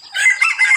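Hens and chicks on a Thai farm, foraging together after losing the mother hen; a short burst of close, bright clucking calls, fairly loud and continuous with no talk.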